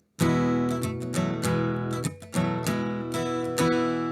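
A plucked acoustic guitar in DADGAD tuning plays the lilting Scottish tune Mormond Braes, strummed chords and picked notes ringing clearly on their own with no singing.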